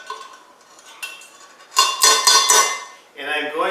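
Two spoons clinking against ceramic coffee cupping bowls of Ethiopian coffee, a faint tap early on and then a cluster of louder, bright clinks and scrapes, followed by a short resonant ring.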